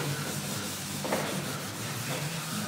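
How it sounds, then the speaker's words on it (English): A gray scuff pad rubs across the painted body of a Chevrolet Silverado pickup, giving a steady close scratchy scuffing that runs continuously throughout, with a brief sharper stroke midway. "we're using a gray scuff pad, and gray is less aggressive than a red"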